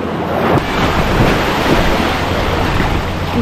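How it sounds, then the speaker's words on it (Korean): Steady roar of surf and strong breaking waves on a Phuket beach, loud and continuous, with wind buffeting the microphone throughout. "이게 파도가 생각보다 세더라고요."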